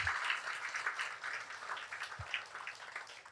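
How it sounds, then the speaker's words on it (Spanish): A church congregation claps in faint, distant applause, a soft wash of scattered hand claps that starts a little fuller and thins gently over a few seconds. "Por favor, dales un aplauso."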